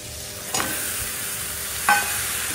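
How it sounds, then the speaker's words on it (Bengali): Crab pieces drop into a sizzling spice masala with potatoes, a soft steady fry broken by two brief louder scrapes or splashes as they go in, quiet and close. "মশলাটা কষানো হয়ে গেছে, আলুগুলো দিয়ে দিয়েছি, বেগুনগুলো রেখে এবার কাঁকড়াটা দিয়ে দেবো"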